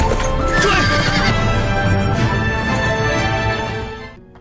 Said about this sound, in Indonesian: mereka berkuda pergi meninggalkan tempat itu